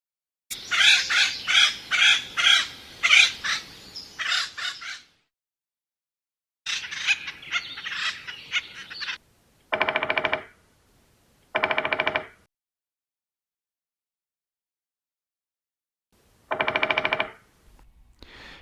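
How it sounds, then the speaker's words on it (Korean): Woodpecker in an autumn forest: bursts of rapid rattling drumming on a tree, loud and close, then several short separate drum rolls and calls spaced by silent gaps. "딱따구리가 나무를 치는 소리 한번 들어보시겠습니다"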